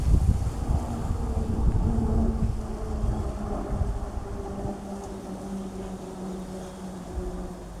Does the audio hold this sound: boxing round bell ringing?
no